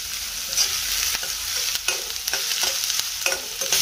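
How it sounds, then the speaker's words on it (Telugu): Chopped onions fry in oil with a dense, hissing sizzle, punctuated by regular scraping strokes of a stirring spoon against the pan. "ఇట్లా వేయించుకుందాము ఆయిల్లో."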